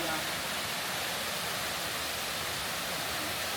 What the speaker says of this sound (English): small waterfall here